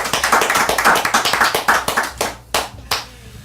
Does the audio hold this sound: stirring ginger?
no